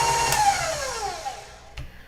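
An electric mixer whirs at medium-high speed while beating butter and light brown sugar. The steady motor whine drops in pitch as it slows down near the end, and a click sounds at the finish.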